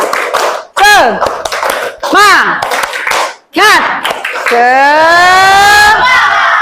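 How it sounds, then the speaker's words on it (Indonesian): A school class claps and chants the 'tepuk semangat' routine at the end of a maths lesson, bursts of claps alternating with voiced chanting in a loud, rhythmic pattern that ends in a long, held, rising shout. "Kita akhiri dulu dengan tepuk semangat."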